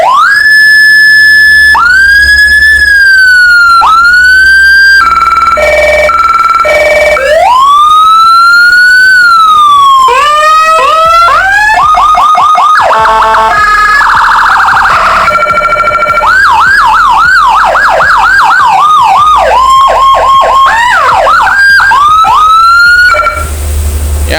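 Whelen Handle V2 200W siren module cycling through its tones: loud wails, rapid yelps, hi-lo alternations and warbling sweeps, switching abruptly every few seconds, close and alone.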